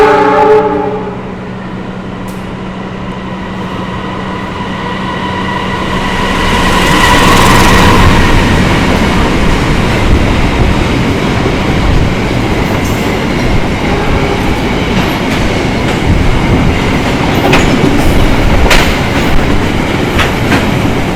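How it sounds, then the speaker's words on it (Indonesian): A freight train rumbles past close by on a Jakarta–Yogyakarta line, a horn sounding at the start, then a long loud roar of wagons with rhythmic clattering wheels. "Dan ini dia rangkaian kereta barangnya akan melintas ya."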